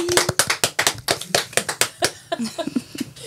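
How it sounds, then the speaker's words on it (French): Light, sparse hand clapping from a small studio audience on a French TV quiz show, a steady run of distinct claps lasting a few seconds, close and alone. "Il applaudit délicatement."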